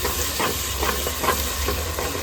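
Ginger-garlic paste and onions frying in a pan for a fish curry, a loud continuous sizzle broken by several clinking stirs of a spoon against the pan, close by and without talk.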